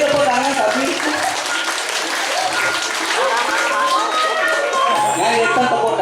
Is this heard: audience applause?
yes